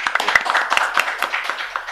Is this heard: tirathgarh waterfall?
no